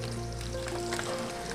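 Okra frying in hot oil gives a dense, steady sizzle and crackle, loud and close, continuous throughout with no voices.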